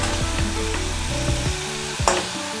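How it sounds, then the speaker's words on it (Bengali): Spice paste cooked down for a Bengali katla kalia sizzles and crackles steadily in hot oil, with a few clinks of a stirring spoon and a brief louder spatter near the end, close and with no voices. "দেখুন আমার মশলাটা কষানো হয়ে এসছে, তেলটাও অনেকটা ছেড়ে দিয়েছে।"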